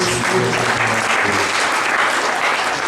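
A church audience at a women's convention applauds steadily and loudly throughout, a dense continuous clapping with no speech over it.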